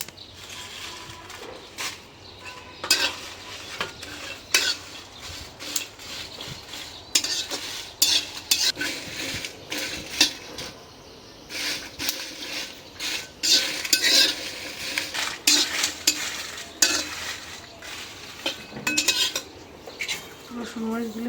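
Dried chillies sizzling in hot oil in a pan, with repeated clinks and scrapes of a metal spoon stirring against the pan over a soft background hiss.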